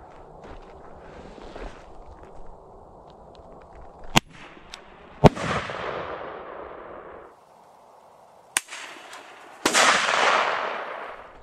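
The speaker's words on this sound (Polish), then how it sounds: "Tak prawidłowo raca hukowa powinna strzelać." A Lexon pistol fires bang flares: two sharp cracks, each followed about a second later by a loud, hissing, crackling explosion, with quieter ambient noise between the shots.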